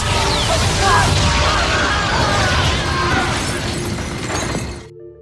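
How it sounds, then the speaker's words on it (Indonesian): A loud, sustained explosion at an Antarctic facility, crashing with shattering debris and roaring noise that gradually fades before cutting off abruptly. "terjadi ledakan yang cukup besar hingga memutus aliran listrik seluruh fasilitas."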